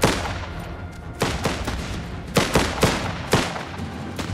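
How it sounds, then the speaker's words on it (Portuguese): Artillery and gunfire in the war strategy game Last Train Home, a series of sharp, loud blasts at irregular intervals over a rumbling battlefield background, with no talking. "Vou dar um tiro de artilharia ali."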